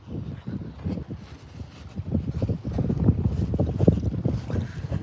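Strong wind gusting across a soft-sand beach, buffeting the microphone in rough, irregular rushes that grow louder toward the end, with no voices.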